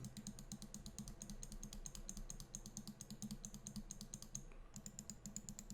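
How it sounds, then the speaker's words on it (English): Rapid, evenly spaced left-button clicks from a Roccat Kone Aimo Remastered mouse, sharp and close, repeating continuously with a brief pause near the end; quiet, no voices. "this is the sound of the left button."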